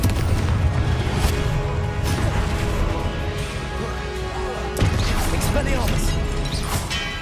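Blasting spell cast in the Hogwarts Legacy video game: repeated booming, crashing explosions with sharp impacts over continuous dense combat noise, a strong burst near the middle.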